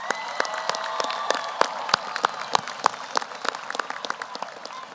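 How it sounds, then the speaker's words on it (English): At the 2022 Hutto High School graduation, a stadium audience applauds teachers and counselors. Sharp individual claps ring out over a broad wash of crowd clapping, loud at first and tapering gradually. "Let's give them a large round of applause."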